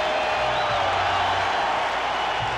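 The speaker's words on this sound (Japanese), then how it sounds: "5万人を超える観客が立ち上がり拍手で迎えました" A dense, steady wash of crowd noise from a packed Yankee Stadium, more than 50,000 fans standing and applauding in a continuous distant roar with no distinct individual claps.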